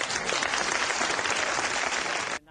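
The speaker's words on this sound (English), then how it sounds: "Applause are long and frequent." An audience at a campaign town hall meeting claps in a steady, dense burst of applause for a couple of seconds before it cuts off.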